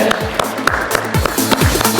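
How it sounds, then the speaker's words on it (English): An audience applauds a panel at an insurance payments discussion event, a steady run of loud, dense clapping with a rhythmic tap pattern, close and continuous, under a little background talk. "a big round of applause for this wonderful panel again"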